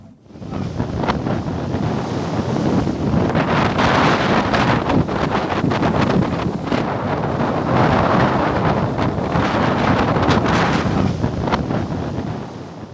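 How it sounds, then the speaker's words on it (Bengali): Strong gusting wind from Cyclone Remal roars against the microphone while heavy sea waves crash and surge continuously on the Bangladesh coast, loud and close throughout. "দমকা বাতাসে উত্তাল হয়ে উঠেছে সমুদ্র আর আছড়ে পড়ছে ঢেউ"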